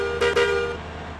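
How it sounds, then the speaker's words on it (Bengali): A bus horn in a Chittagong-to-Sylhet bus driving video game blares in two quick loud honks, then holds a steady electronic tone that fades within about a second. "আমি কিন্তু হর্ন দিচ্ছি, দেখুন"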